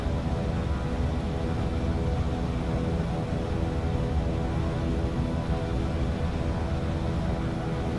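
Twin propeller engines of a Beechcraft Duke at takeoff in Microsoft Flight Simulator, a steady loud droning hum with layered harmonic tones, unchanging and constant, with no voices.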